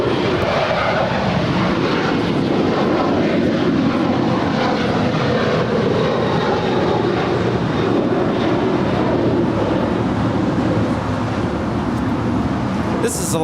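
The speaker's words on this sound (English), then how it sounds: "This is Alaska 290 departing to Guadalajara. It's a 737-900ER." An Alaska Airlines Boeing 737-900ER departs Los Angeles airport, its broad steady jet roar filling the whole stretch, loud and continuous.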